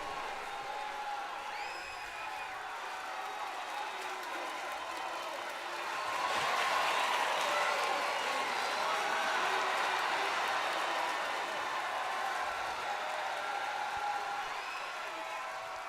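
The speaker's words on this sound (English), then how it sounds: "This Manhattan crowd is on fire tonight." A virtual arena crowd in the WWE 2K22 wrestling game roars and cheers steadily in the background, swelling louder midway before settling again, with faint commentary-like tones mixed in.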